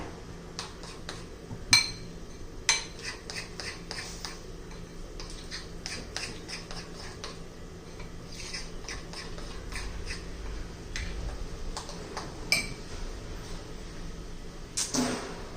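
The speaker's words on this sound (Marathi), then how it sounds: "थोडे काजूचे तुकडे घालूया आता व्यवस्थित मिक्स करून घेऊया" A spoon stirs semolina chocolate cake batter with cashew pieces in a bowl, making repeated light clinks and ticks against the bowl under a soft, steady scraping.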